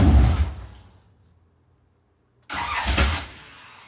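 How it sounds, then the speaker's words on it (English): A Camaro engine with a new governor gear and spring cranks briefly and catches, then after a quiet pause a second loud burst of engine noise fires up close by. "Alright fellas, we're gonna fire it up, check for leaks after installing that new governor gear and spring."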